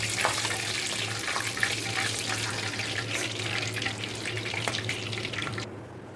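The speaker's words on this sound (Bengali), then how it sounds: "ওই তেলে ফোড়ন দিয়ে দেবো, তেজপাতা, এলাচ, লবঙ্গ, দারচিনি আর জয়িত্রী" Whole spices, bay leaf, cardamom, clove, cinnamon and mace, frying in hot oil for a chicken roast, giving a steady close sizzle and crackle with faint scattered pops, easing slightly at the end.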